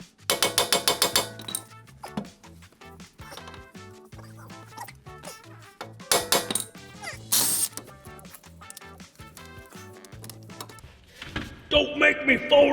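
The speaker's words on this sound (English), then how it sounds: "We might have to tap on the end of the axle here" Hammer taps on the end of a car axle during differential work, a quick burst of sharp metallic strikes at the start and another cluster midway, ringing against a busy, cluttered background of workshop noise and handling.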